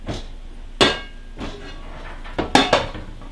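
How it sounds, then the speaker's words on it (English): A baking dish of twice-baked potatoes is pulled from a home oven, sharp metallic clanks and knocks of the rack and dish, one loud strike followed by a quicker cluster of clinks near the end. "We're gonna pull our stuff out of the oven."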